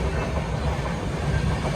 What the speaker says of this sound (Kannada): ಇನ್ನೂ ಒಂದು ಟ್ರೈನ್ ಇದೆ ಅನಿಸುತ್ತೆ